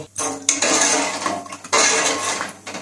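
Salted water stirred in a pot on a gas stove, two bursts of metallic scraping and clattering close by, each lasting about a second and a half, with no talking.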